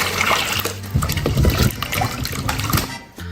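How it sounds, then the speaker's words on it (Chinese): Water pours and splashes over freshly peeled and grated potatoes being rinsed for Shaanxi-style potato cacai, a steady close, loud gush with trickling that fades out at the end. "倒水再洗一下"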